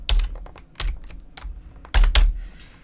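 Quick bursts of typing on a computer keyboard, clustered clicks and clacks in a few uneven runs, close and clear with no talking.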